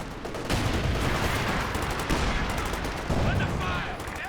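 Dense, loud gunfire from a Company of Heroes 2 battle, sustained bursts of rifle and machine-gun fire with blasts layered throughout, filling the whole stretch.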